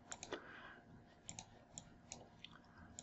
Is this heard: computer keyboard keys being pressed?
yes